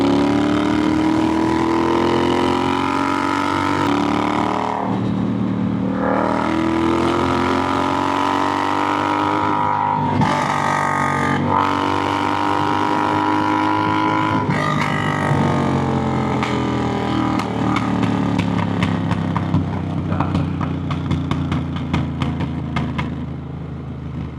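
A Triumph Bobber motorcycle engine drones loud and steady throughout while riding, with the pitch rising and falling through gear changes and a brief dip near the middle.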